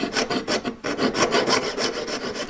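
A jeweller's saw cutting through thick metal with steady back-and-forth strokes, a dense rasping scrape about every quarter second, close and clear, with one brief pause partway through; no voices.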